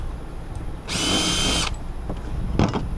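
A power drill bores mounting holes for a Warn XT17 motorcycle winch, one short loud whirring burst under a second long, followed by quieter handling clicks and a brief rattle.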